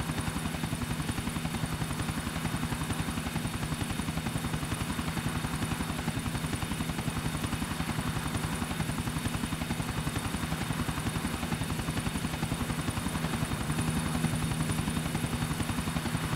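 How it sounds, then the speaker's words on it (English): A helicopter flies in GTA IV with a loud, steady rotor thrum, a continuous rapid chopping pulse held evenly throughout without any talking. "There'll be the other chopper."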